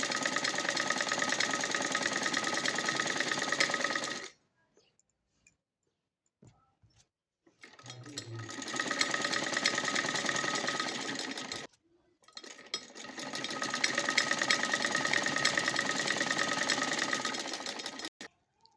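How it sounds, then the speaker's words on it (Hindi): A sewing machine stitching fabric for a baby cap runs in three fast rhythmic bursts of needle clatter, close and steady, separated by short pauses with faint handling sounds. "इस कपड़े को इस तरह से करते हुए, इस पे अटैच करते हुए हम इस तरह से इसमें सिलाई लगाएंगे"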